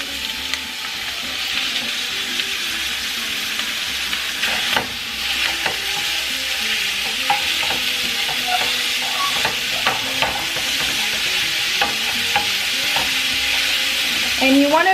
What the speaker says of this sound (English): now that my pan is hot, I'm going to go ahead and add the meat.